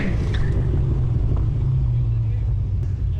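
A V8-powered Volkswagen Beetle on a skid pan, with a loud, close, continuous low engine rumble under hard acceleration and some wind buffeting.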